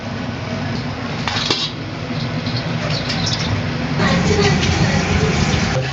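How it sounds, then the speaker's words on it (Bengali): Cooked rice is moved into another metal pot while making chicken dum biryani. A few light clinks and scrapes of a utensil sound against steady kitchen background noise. "ভাত হয়ে গেছে, এখন ভাত নামায় অন্য পাতিলায় রাখবো"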